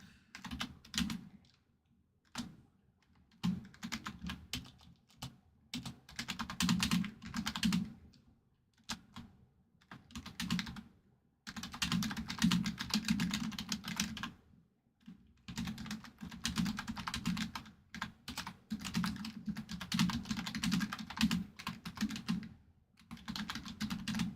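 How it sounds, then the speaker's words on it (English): Fast bursts of tapping on a computer keyboard fill the space, close and clear, broken by several short pauses, with no voices. "I don't know if I'm actually typing in the right thing"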